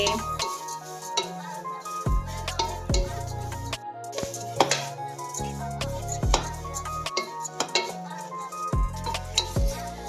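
Flattened rice (aval) and grated coconut roasting together in a pan, stirred with a spoon that scrapes and taps against the metal in irregular strokes, close and fairly quiet.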